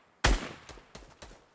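Gunfire in a trio video game tournament match: one loud close shot followed by several fainter, scattered shots, with no talking over it.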